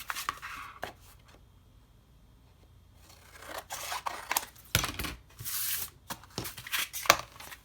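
Excess tape trimmed off a board for a paper notepad craft, soft scraping and cutting strokes close up, quiet at first, then denser rasping cuts in irregular bursts.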